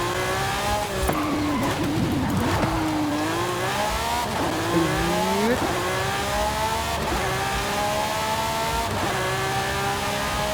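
Lamborghini Sián Roadster in Forza Horizon 5 racing game, its engine revving and shifting through rising and falling pitch sweeps, loud and continuous, with a voice talking over it throughout.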